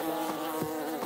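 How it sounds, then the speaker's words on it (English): Bees buzzing in a cartoon, a dense continuous insect drone with a wavering pitch, steady and fairly loud for about a second with no talking. "Are those bees attacking?"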